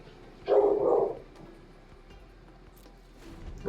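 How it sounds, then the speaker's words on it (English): A dog barks once in a short loud burst indoors during a Magic card game session, followed by quieter room sound. "Excuse the dog."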